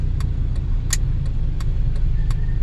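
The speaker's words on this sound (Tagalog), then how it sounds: "nagkakabuhol-buhol na dito ang galing sa Sorsogon ng mga sasakyan, kaya nagkakaroon ng ano traffic" Cars and other vehicles sit in a traffic jam on a road toward Sorsogon, giving a steady, loud engine rumble. Several sharp clicks or clanks come through at intervals, and no one speaks.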